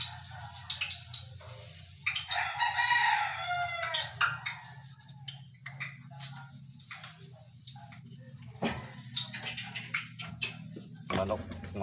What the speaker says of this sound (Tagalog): Manok, kumakain na sila.